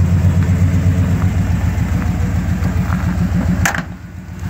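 A 1984 Chevy pickup engine idles with a steady low rumble, and a brief whooshing burst near the end marks the cooling fan kicking on before the sound settles slightly quieter.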